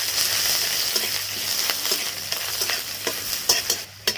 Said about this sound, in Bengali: পেঁয়াজটা একটু লাল লাল করে ভেজে নিয়েছি